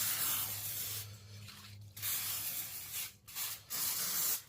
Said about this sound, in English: hit it with a non-stick cooking spray, which I just happen to have canola oil